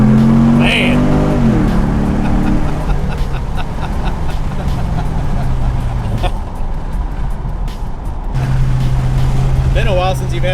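A Chevrolet Camaro engine growls steadily while driving, revving and dipping and then settling into a low, even drone, heard from inside the car as voices talk over it.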